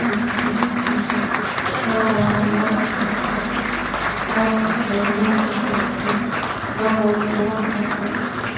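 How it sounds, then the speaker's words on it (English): Audience applause for a president at a Peace Corps swearing-in ceremony, continuous loud crowd clapping mixed with a steady tonal hum and pulsing background sound throughout. "Give another round of applause for the president."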